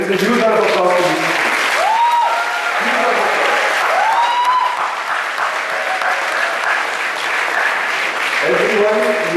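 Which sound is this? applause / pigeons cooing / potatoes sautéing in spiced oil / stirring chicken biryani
applause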